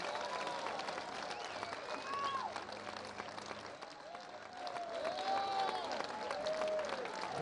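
Faint crowd applause and cheering at a village gathering in Kogelo, Kenya, sustained throughout with scattered voices and high-pitched calls mixed in.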